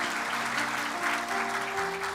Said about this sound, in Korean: 박수로 한번 격려하겠습니다.